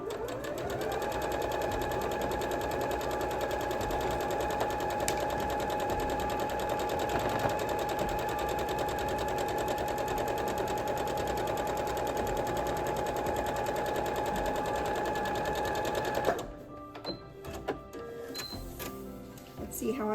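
A sewing machine hums and clatters steadily while piecing a quilt block, running continuously for about sixteen seconds before stopping, followed by handling of fabric and small clicks.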